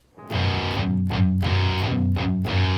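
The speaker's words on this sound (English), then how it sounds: "I'm just going to do some basic chugging" Heavy distorted electric guitar chugging out rhythmic palm-muted low notes in a steady, repeating pattern, loud and close.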